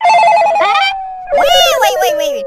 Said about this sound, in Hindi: फोन उठा लो रे, फोन उठा लो।